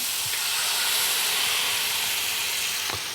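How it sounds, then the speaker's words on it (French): White wine poured into a hot pan of rabbit and vegetables hisses and steams steadily, a loud, close, continuous sizzle with no talk. "On va finir de déglacer avec un petit peu de vin blanc."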